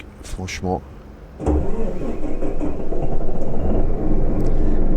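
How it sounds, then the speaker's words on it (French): Volvo F12 truck engine cranks and catches in Euro Truck Simulator 2, settling into a steady low diesel idle rumble after a short starter burst, with someone speaking French over the start. "C'est vraiment le son que faisait le Volvo."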